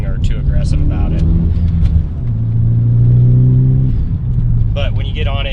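Ford Focus ST fitted with an aftermarket catback exhaust, a steady smooth rumble that swells as the engine pulls, heard close from inside the car under continuous conversation.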